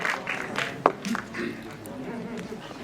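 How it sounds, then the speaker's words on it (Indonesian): Audience applause at a press conference for the film Operasi Pesta Copet, scattered claps rising briefly under a speaking voice, moderately close and not very loud. "sekali lagi boleh tepuk tangan dulu buat para pemeran dan pembuat film Operasi Pesta Copet"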